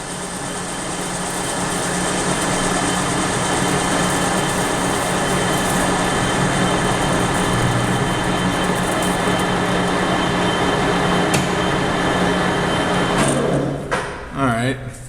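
A machine turning at about 510 RPM in a workshop, working on an etching press handwheel, gives a loud, steady mechanical roar with a constant hum that runs nearly the whole time, then cuts off abruptly near the end.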